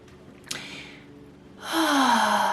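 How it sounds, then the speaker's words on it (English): Deep breathing for a calming exercise: a sharp intake of breath, then a long, loud exhale that swells and holds near the microphone, with no speech. "I'm just going to do a breathing exercise to kind of get our minds right"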